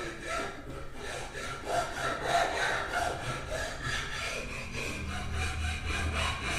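A Bauer belt sander fitted with a 120-grit belt works over a wooden saya, giving a steady, close abrasive rasp and rub that holds at an even level throughout, with no talking.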